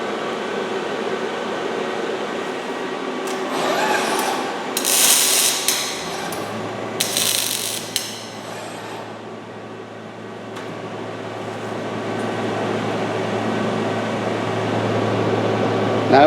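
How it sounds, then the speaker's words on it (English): An industrial welding robot lays down a weave-pattern weld, a steady electrical buzz and hum with crackling arc bursts near the start, then a continuous low drone from the running equipment. "Now we're going to actually do the weld."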